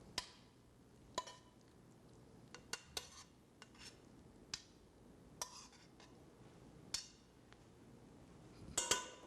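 Macaroni dish served into a bowl, with scattered metallic clinks and scrapes of a utensil against dishware, spaced irregularly over a quiet kitchen background and growing busier at the end.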